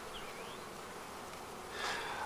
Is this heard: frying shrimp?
no